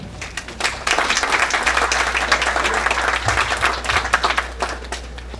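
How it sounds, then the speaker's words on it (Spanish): Sustained applause from a sizable crowd, dense clapping filling the whole stretch at a steady, fairly loud level. "Un aplauso para él"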